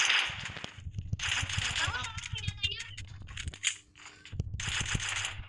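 Gunfire from the video game PUBG comes in sharp, repeated bursts mixed with game effects, loud and up close, with excited voices talking over much of the action.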